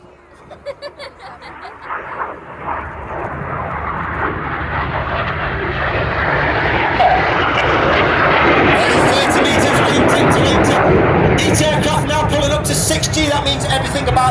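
RAF Red Arrows display jets at an airshow pass overhead as a loud, sustained roar that builds steadily and holds, with a public-address commentator speaking throughout.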